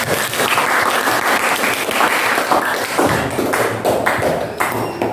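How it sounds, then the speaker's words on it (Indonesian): A room full of students applauds loudly at the end of a lesson, a thick, continuous wash of many clapping hands that holds steady throughout with little talk. "Silakan tepuk tangan untuk kita semua."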